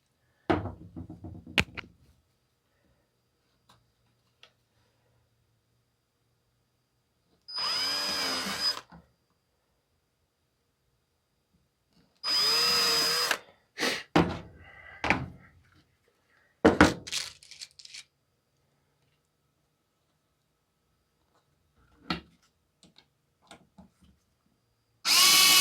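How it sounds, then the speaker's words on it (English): Power drill pre-drilling screw holes in a cedar birdhouse, several short whirring bursts separated by quiet pauses, with light knocks and handling noises in between. "Just go ahead and pre-drill these."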